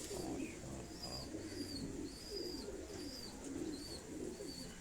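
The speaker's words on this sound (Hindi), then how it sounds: "उस्ताद चौधरी सखी मोहम्मद भट्टी के घर वाले टैडी कबूतर ये आपको दिखाए जा रहे हैं" Teddy pigeons kept at a home loft coo softly in a rhythmic series of low, rolling calls, faint and slightly distant over a steady background hum, with occasional higher chirps.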